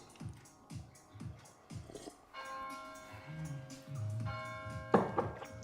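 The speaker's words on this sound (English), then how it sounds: "11 o'clock bells." Church bells strike eleven o'clock: a few soft knocks, then sustained, ringing bell tones that swell and overlap, moderately loud.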